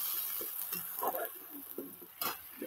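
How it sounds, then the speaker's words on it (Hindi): Cooked masala spices are mashed and stirred in a pan with a spoon, giving soft scraping taps and light sizzling in short irregular strokes, fairly quiet and with no talk. "इसको ऐसे मैश करेंगे। देखिए अभी मसाला मिक्स होगा सबसे"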